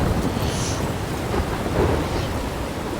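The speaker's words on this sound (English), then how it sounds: "I'm trapped in a storm?" Thunderstorm in the game Life is Strange: a dense, steady roar of heavy rain with low rumbling thunder rolling underneath, loud and continuous, no voices.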